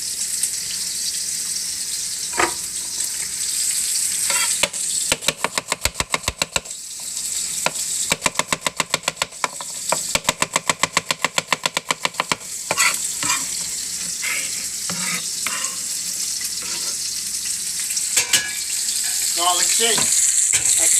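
Garlic and Swiss chard frying in a pan, a steady sizzle broken by bursts of rapid clattering stirring, with running water and kitchen sounds mixed in.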